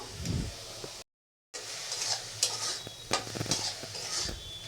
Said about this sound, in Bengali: মাছটাকে নুন হলুদ দিয়ে ভেজে নিচ্ছি